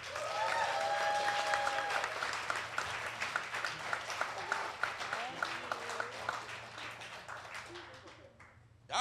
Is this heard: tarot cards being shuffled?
no